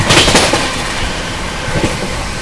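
The Shiv Ganga Superfast Express (12559, Banaras–New Delhi) passes the Magadh Express, heard from inside a 2AC coach. A loud, continuous roar of rolling wheels and rattling carriages with rhythmic clatter carries on steadily throughout.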